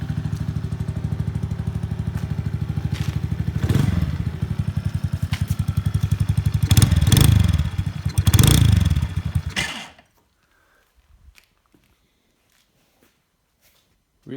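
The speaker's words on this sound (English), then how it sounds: "Give you guys a rev before I turn off the video." A Venom 50cc mini chopper motorcycle engine idles with a rapid putter, revs up in several loud bursts, then cuts off abruptly into silence.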